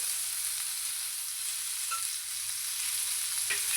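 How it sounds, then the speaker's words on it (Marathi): Okra (bhindi) fries in a pan with a soft, even sizzle, a steady close hiss with no breaks and only a faint tick or two near the end. "आपण या भेंडीला एक दहा एक मिनटं आपण चांगल्या प्रकारे फ्राय करून घेऊया"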